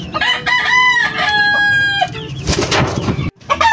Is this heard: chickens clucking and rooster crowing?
yes